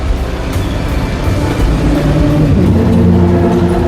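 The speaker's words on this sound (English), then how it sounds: "I think that was the last train for today." In a video game, a train passes with a broad rolling rumble that builds and grows louder toward the end, a steady mechanical roar heard without speech.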